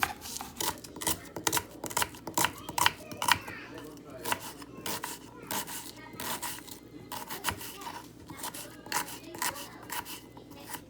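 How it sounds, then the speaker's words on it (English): An onion being cut with a knife, rapid crisp chopping taps repeating in quick irregular bursts, close and fairly quiet over a soft background. "Next I'm going to cut the onion."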